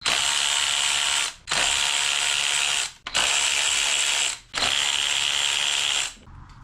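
Four fast bursts of a ratchet with a 10 mm socket, separated by short pauses, loosen the coil pack bolts on a 2011 Malibu engine. The clicking is close and crisp, and no one speaks.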